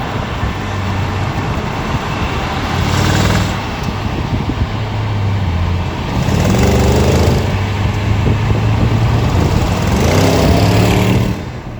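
A steady, throaty stage 3 tuned BMW 650i V8 engine idles nearby in the daytime heat with a low rumble, rising slightly in intensity a few times, continuous throughout with no talking.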